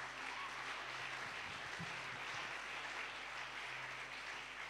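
A church congregation bursts into sustained applause acclaiming the Lord after a scripture reading, a dense, steady wash of clapping that fills the room for the whole stretch with no pause.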